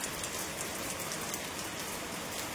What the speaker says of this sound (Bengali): তো দেখো তোমাদেরকে দেখায় ওই দিকটা আসছে কতটা বৃষ্টি পড়ছে